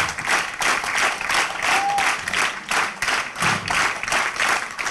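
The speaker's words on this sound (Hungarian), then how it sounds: "ne hagyják abba a tapsot" A theatre audience applauds after a performance of a stage play, with dense, continuous clapping from a large crowd that pulses slightly in rhythm throughout.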